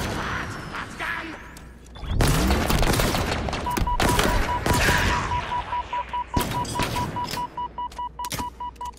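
Rapid bursts of gunfire ring out in Halo Infinite's campaign, loud and close, with booming thuds, repeated electronic beeps toward the end and a voice speaking briefly amid the shots.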